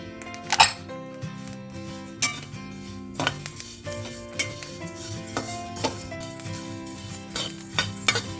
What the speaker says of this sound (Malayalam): ഇനി നന്നായിട്ട് ചൂടാവുന്ന വരെ നമുക്ക് ഇളക്കി കൊടുക്കാം.